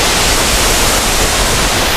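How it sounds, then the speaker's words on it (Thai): Tad Pla Kang, an untouched natural waterfall at the edge of a village, pours in a steady, dense, close rush of water that holds unbroken throughout, with no voices. "นี่คือน้ำตกตาดปลากั้งแหล่งน้ำตกธรรมชาติที่ปราศจากการปรุงแต่ง"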